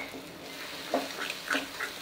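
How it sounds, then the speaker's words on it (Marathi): Spices and salt are sautéed in oil for palak amti, giving a soft steady sizzle with a few light stirring scrapes, close and fairly quiet. "हे बघा, हे छान असं परतून घ्यायचं आहे."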